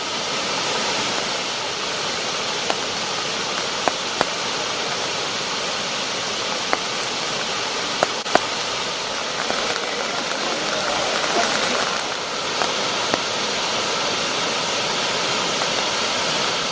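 Heavy rush of a waterfall on the flooding Sharavathi river in Karnataka, steady broadband roar with drizzle, continuous and loud with no pauses.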